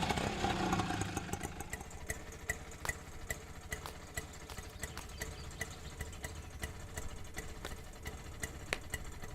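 Small vehicle engine idling steadily and fairly faint as it comes to a stop, with a low, even hum and light rattling ticks throughout, no voices.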